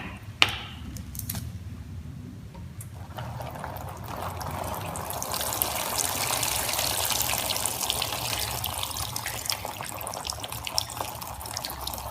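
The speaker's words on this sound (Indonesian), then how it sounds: "air tersebut meluap ke permukaan tanah" Water overflowing from a clogged river channel onto the ground, a steady broadband gushing and splashing that builds after a few faint clicks and then rushes on continuously at moderate level.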